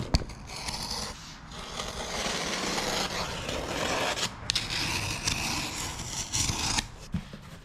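A blade or scissors scrapes and slices through the packaging of a parcel holding a speaker kit, giving a steady, close rasping and cutting noise with brief pauses.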